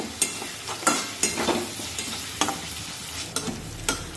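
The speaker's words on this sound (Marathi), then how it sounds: "यामध्ये टोमॅटो टाकूया आणि टोमॅटो सुद्धा मऊ होईपर्यंत शिजून घेऊया" Tomatoes and onion fry in a pan with a continuous sizzle, broken by several sharp scraping stirs at irregular intervals, close and clear with no voices.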